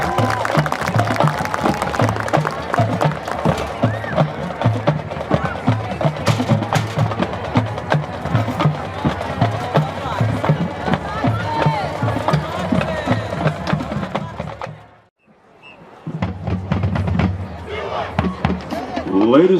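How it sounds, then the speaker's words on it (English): An outdoor audience applauds a marching band, a dense, steady wash of clapping and crowd noise that runs for about fifteen seconds, dips briefly to near silence, then resumes. "Let's give a nice round of applause."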